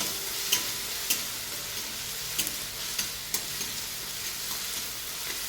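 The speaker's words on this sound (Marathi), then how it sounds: "तर आपण मिरची ते बारीक करून घेतलेलं टाकूया. थोडंसं परतून घेऊया" Chopped green chilli and onion sautéing in a pan, giving a soft continuous sizzle broken by sharp ticks and taps of the spatula at irregular intervals.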